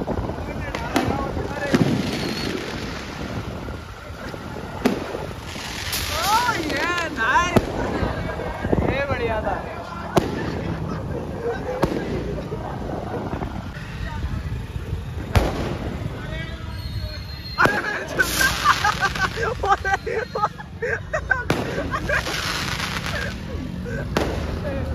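Diwali firecrackers bursting outdoors in front of a house, with repeated loud sharp bangs and crackling pops scattered throughout, nearby and mixed with people shouting and talking.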